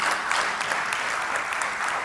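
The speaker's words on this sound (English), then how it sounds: "We need to give Neil Beckley a very big round of applause for his presentation." An audience at a session on technology and Islamic institutions applauds a presenter, with a continuous, even wash of clapping throughout.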